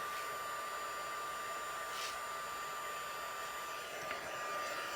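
An embossing heat tool blows hot air to melt embossing powder, giving a steady, close, loud hair-dryer-like whir with a faint high tone and no breaks.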